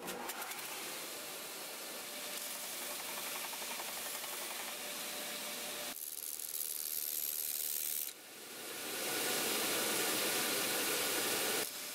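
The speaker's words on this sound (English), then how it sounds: "Next step is to the disc sander." Disc sander shaping a wooden rolling stick for a kururin fidget toy: a continuous loud, broadband grinding whir, shifting in tone around the midpoint and swelling brighter and louder toward the end.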